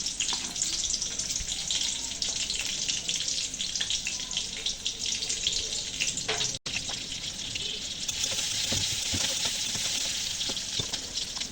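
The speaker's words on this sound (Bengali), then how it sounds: "ঝাল পেঁয়াজ ভাজি ভাজি হয়ে গেছে" Onion, green chilli and a whole garlic clove fry in a pan, making a steady close sizzle and hiss with occasional stirring clicks, interrupted by one brief dropout.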